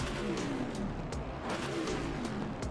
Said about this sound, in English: That is an aggressive V8.